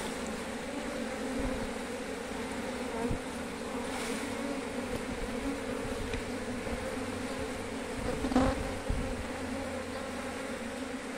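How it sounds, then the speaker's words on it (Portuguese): Honeybees buzz steadily around a hive box during a swarm rescue as the queen goes inside, a dense continuous drone close to the ear with a few louder passes. "Vou colocar as abelhas aqui."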